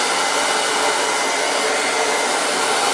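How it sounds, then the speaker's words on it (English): An air dryer blows a loud, steady, unbroken rush of air over wet watercolor paint to dry it, with no talking. "I have to get a quieter air dryer"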